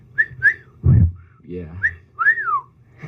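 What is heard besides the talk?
whistling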